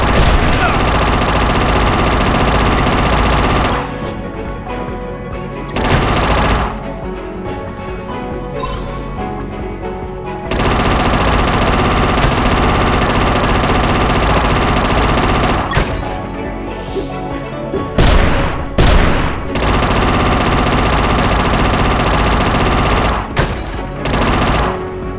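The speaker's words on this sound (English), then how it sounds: "You destroyed my machine gun!" Boss machine gun firing in the game UnMetal, with sustained loud bursts of automatic fire and crashing impacts that stop and restart in several stretches over the game's music and effects.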